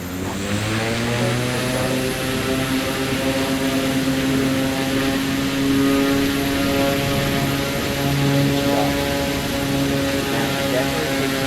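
A Draco X STOL plane in Microsoft Flight Simulator 2024 takes off, its propeller engine droning loud and steady throughout with strong harmonic tones that shift slightly in pitch as power builds.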